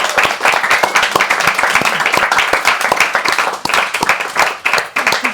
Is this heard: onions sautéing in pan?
no